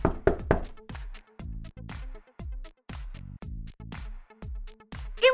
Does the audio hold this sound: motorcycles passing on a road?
no